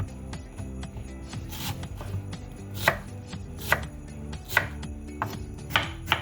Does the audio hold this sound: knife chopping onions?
yes